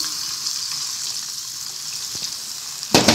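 Water is poured into a pan of frying potatoes for aloo biryani, a steady hissing sizzle that flares into a loud burst of spitting at the end, with a few small clinks before.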